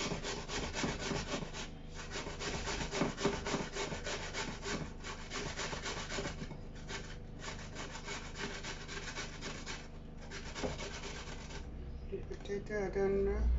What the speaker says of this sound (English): I had a potato that I'm already started to grate.